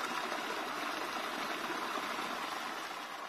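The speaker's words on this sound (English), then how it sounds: "The water that flows down from the small catchment area you see behind us is collected in this atajado." Water flows down from a small catchment area in the Andes into a rainwater retention basin, a steady, dense rushing wash, close and unbroken throughout.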